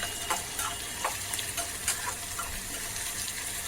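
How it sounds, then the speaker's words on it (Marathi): Finely chopped onion frying in hot oil with a pinch of asafoetida for masoor dal tadka makes a steady, dense sizzle with faint crackles throughout. "तेलामध्ये आणि चिरलेला एक कांदा घेतलेला आहे थोडासा बारीक चिरलेला कांदा घ्यायचा आणि आता तो भाजून घ्यायचा"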